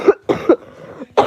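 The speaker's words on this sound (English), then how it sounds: "You still coughing?" A woman coughs three times in quick succession, close and loud, each a short harsh burst separated by brief pauses, with no talking.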